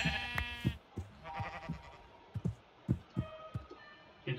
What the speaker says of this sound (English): Let me kill this sheep real quick.